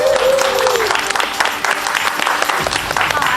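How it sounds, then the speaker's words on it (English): Studio audience on a celebrity reality show breaks into loud sustained applause and cheering, a dense clatter of clapping throughout with crowd voices and a brief whistle mixed in. "Give her a massive round of applause, Cheryl Gascoigne!"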